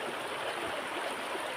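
Strongly flowing spring-fed river water rushes in a steady, dense wash, fairly faint but continuous with no voices over it.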